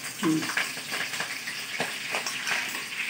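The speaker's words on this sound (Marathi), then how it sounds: "मोहरी टाकली, जिरं टाकलं, मिरच्या टाका, कांदे, शेंगदाणे।" Mustard seeds, cumin, green chilies, onions and peanuts crackle and sizzle in hot oil for kande pohe, a close frying hiss with small pops and stirring clatter.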